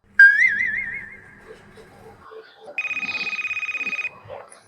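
Phone ringing indoors: a warbling electronic ring tone followed by a fast pulsing ring burst, with a person speaking briefly in between.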